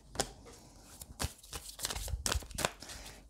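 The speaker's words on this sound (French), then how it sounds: "ça fait un moment que je n'ai pas utilisé ce jeu-là, donc je prends le temps de bien le mélanger" A deck of tarot cards being shuffled by hand in a quiet room, a run of crisp riffling flicks and soft card slaps lasting about three seconds, close and moderately quiet.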